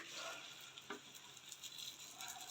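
Bobbattu, a sweet flatbread, fries in oil on a hot pan with a soft, quiet sizzle, broken by a few brief stirring scrapes and pops.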